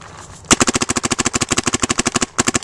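A paintball marker fires on uncapped ramping in a long rapid stream of loud, evenly spaced pops, a short break near the end, then the burst resumes.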